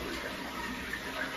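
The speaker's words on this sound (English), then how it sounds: "I'm just flushing the toilet" A household toilet flushing, a steady close rush of water lasting throughout without any pauses or voices.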